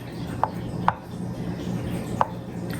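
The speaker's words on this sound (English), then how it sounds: "Just nice coarsely chopped egg." A knife coarsely chopping boiled eggs for potato salad on a board, four sharp separate taps spaced apart over a quiet kitchen background.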